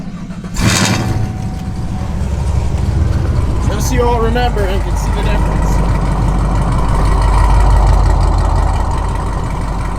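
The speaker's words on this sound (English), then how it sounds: "This is the last time you guys are going to hear this car without a cam and a nasty chop." A Ford Mustang GT engine, running without a cam, idles with a steady, low rumble throughout while someone talks over it.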